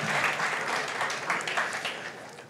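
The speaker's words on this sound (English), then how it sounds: "Let's have another round of applause for" A symposium audience gives a round of applause after a panel conversation, with steady massed clapping from a large hall that holds even and then begins to taper slightly toward the end.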